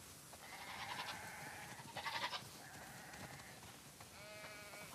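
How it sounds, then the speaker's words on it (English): A flock of sheep on a farm in The Last of Us bleats in overlapping, wavering cries, several calls near and loud over a steady background hiss, with no talk. "Wow, that's a lot of sheep."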